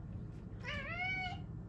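Three-legged pet cat meowing once, a short rising then falling mew, clear and close over a quiet room hum.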